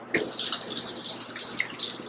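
A small pour of water into a pan of yams, a steady close splashing trickle after a sharp start, running for a couple of seconds with faint drips.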